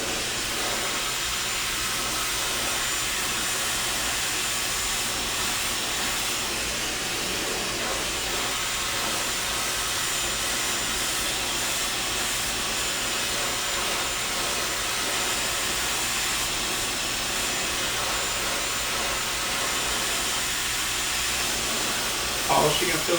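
A hair dryer blows steadily during a smooth blowout styling session, giving a constant loud airy whoosh that lasts the whole time with no pauses.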